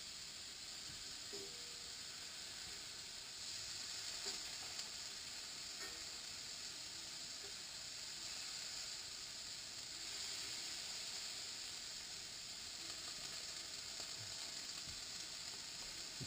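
Four duck breasts and four tenderloins browning in a pan, a continuous soft sizzle and fry hiss with faint occasional pops and clinks, steady and fairly quiet throughout, with no speech.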